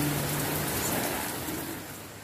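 Steady rain falls on a garden of potted plants, including banana plants and roses, making a continuous dense hiss of drops that eases slightly toward the end, with no voices.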